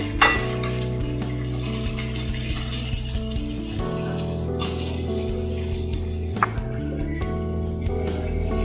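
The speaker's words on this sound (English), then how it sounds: "Now we have to mix it well." Spicy kottu mee noodles with chili and salt get stirred in a sizzling pan, a steady fry hiss under repeated scraping and clinks of a utensil against the metal.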